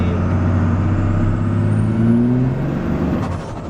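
Diesel truck with full exhaust, a steady loud engine drone that rises in pitch as it revs under acceleration, with a high turbo whistle climbing above, then easing off near the end.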